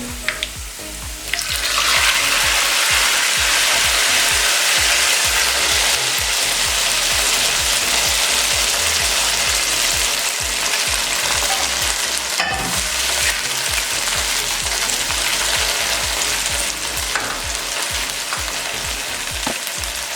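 Golden fried onion tadka is poured into a pot of mutton nihari and erupts into a loud, steady hissing sizzle that carries on strongly with faint stirring, heard close with no talking.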